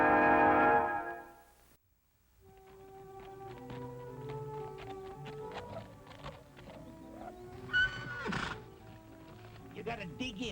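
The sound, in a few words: wild horse neighing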